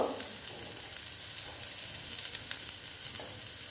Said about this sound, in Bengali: একটু ভেজে নিচ্ছি ভালো মতন, আর একটু বেশ একটু কড়া করে ভেজে নেব